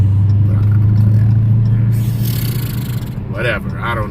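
A loud car engine rumbles with a deep, steady drone close by, easing off partway through as someone talks over it.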